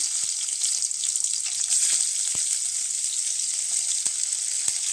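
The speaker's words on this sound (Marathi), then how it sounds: "कांदा तळून घेणार" Oil sizzling and crackling steadily as onion fries in a pan, a dense hiss with occasional sharper pops, close by and continuous.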